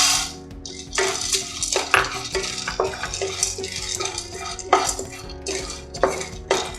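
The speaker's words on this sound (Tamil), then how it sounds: "ஏற்கனவே வறுத்த மல்லாட்டை தான் நம்ம இதிலே போட்டு லைட்டாக சூடு பண்ணிக்கலாம்" Already-roasted peanuts warming in a pan while being stirred, giving busy rattling and scraping clatter against the metal with repeated loud bursts and no talk.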